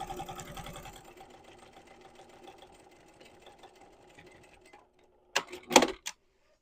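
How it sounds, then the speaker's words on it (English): A sewing machine runs steadily, stitching down the center crease of a fabric sling bag with a fast, even mechanical whir that slows and stops, followed by a few brief handling clicks. "now we're going to sew down that center crease"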